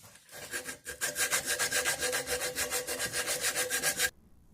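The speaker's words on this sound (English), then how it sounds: "And now I'm going to use the sandpaper." Sandpaper rubs back and forth over a horse-hoof war club in quick, even, rasping strokes, about twenty in a row, loud and close, before stopping abruptly.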